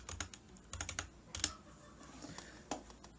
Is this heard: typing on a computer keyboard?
yes